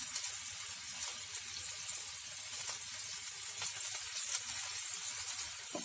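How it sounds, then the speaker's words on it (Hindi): Seekh kababs frying in a pan over a medium flame, giving a steady, even sizzle with faint crackles and pops throughout, close up and fairly quiet, with no talking. "मीडियम फ्लेम पे 2 मिनट के लिए फ्राई करने के बाद अब हम इसे टर्न करके देख लेते हैं"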